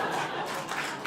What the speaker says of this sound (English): Canada applauds.